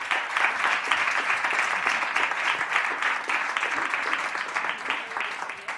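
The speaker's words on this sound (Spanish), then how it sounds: "Venga, un aplauso para ella." Dense, steady applause from an audience at a presentation event, a sustained wash of many hands clapping at close range for nearly six seconds without a break.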